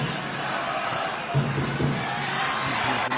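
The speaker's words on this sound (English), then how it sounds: "This crowd growing a bit restless now here in Paramaribo." A football crowd in Paramaribo murmurs and rumbles as a steady, distant roar of many voices, with a couple of brief louder shouts rising above the din.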